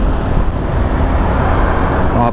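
Busy road traffic with large cargo trucks passing, a loud, dense roar of engines and tires that stays steady and close, with brief faint voices in the background.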